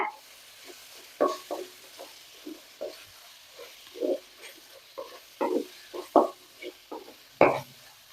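Spices sautéing in a hot pan for an omelette curry: irregular scraping strokes of a spoon against metal, close and distinct, with a faint sizzle between them.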